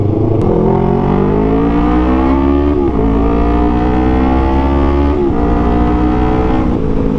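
A Yamaha R3 sport motorcycle with a loud temporary exhaust revs hard and close, engine pitch climbing and dropping in repeated sweeps with a raspy, blaring tone, no talk over it.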